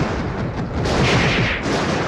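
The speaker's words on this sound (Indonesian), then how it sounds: "Di luar istana pertempuran masih berlanjut, banyak ledakan di mana-mana" Dense, continuous rumbling blasts and booms like battle explosions, loud and sustained with no pause.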